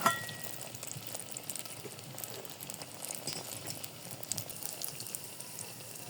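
Soft, even sizzling of pitha cakes made with palm jaggery frying in oil, a quiet continuous crackle with faint scattered pops throughout.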